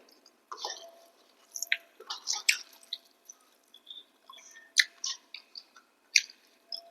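Close, wet chewing and smacking while eating paneer curry and ghee-cooked pulao, irregular bursts of mouth sounds with quiet pauses between.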